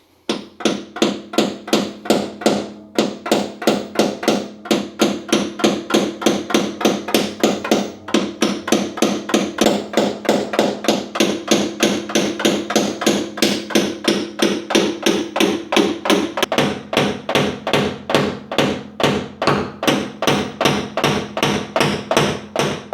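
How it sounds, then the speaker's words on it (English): Steady metallic tapping repeated rapidly and evenly for a long stretch, close and loud, a small hammer tapping out a dent in a car body panel, with no one speaking. "He did do a little bit of the hammer work on it"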